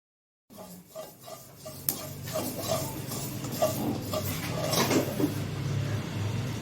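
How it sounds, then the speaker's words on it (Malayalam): Sesame seeds dry-roasting in a pan and being stirred, giving steady scraping and light metallic clinks that build gently over several seconds, close up with no talking. "നമുക്ക് എള്ളൊന്ന് വറുത്തെടുക്കാം."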